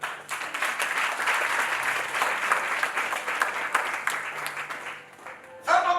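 Church congregation at a French-language prophetic revival service applauding and cheering, a dense sustained wash of clapping and crowd noise that fades near the end as a voice comes in.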